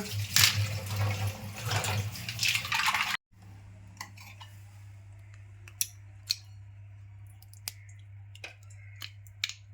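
Fresh clams being cut in half on a vili blade in a kitchen, with a louder wet scraping burst at first, then a low steady hum under a series of sharp, separate cracks and clicks.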